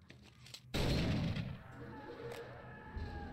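A single sharp gunshot, likely from a shotgun, in the horror video game Call of Cthulhu, cracking loud and sudden out of quiet and then trailing off into a fading echo.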